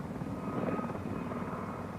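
Military helicopters fly steadily overhead in a Falklands War combat setting, their dull rotor throb and engine drone forming a continuous, moderately loud roar with no talk.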